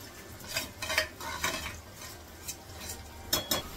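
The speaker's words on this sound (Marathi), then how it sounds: "हे चांगलं असं यामध्ये वाटणामध्ये बारीक गॅस परतून घ्यायचं" A spoon stirs spiced yogurt batter with kasuri methi into okra masala in a pan over low heat, giving irregular scraping and clinking strokes against the pan, close and fairly loud, with no talking.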